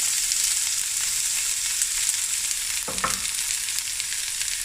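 Chopped onions sizzle steadily in a hot pan, a dense continuous frying hiss with a brief clank of a spoon or pan partway through, close and fairly loud with no talk.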